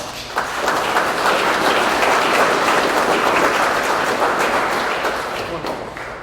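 Loud, sustained applause from the audience at a Purple Heart Day ceremony in Lawrence, a dense crowd clapping for about six seconds before tapering off at the end.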